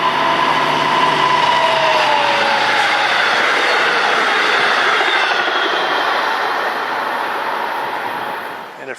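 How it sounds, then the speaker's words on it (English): An LIRR diesel train hauling double-decker cars rolls into the station on track 2, a loud, steady rumble of wheels and engine with faint squeals that eases off toward the end. "Diesel train with double-decker cars."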